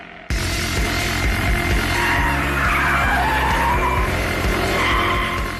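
A BMW M5 F10 in full track mode spinning its tyres, a loud sustained screech of skidding rubber over the rumbling engine, continuous for several seconds.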